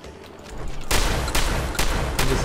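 Shotgun blasts in Fallout 4 during a Brotherhood of Steel mission, with three or four loud, sharp booms spaced roughly half a second apart over fainter background combat.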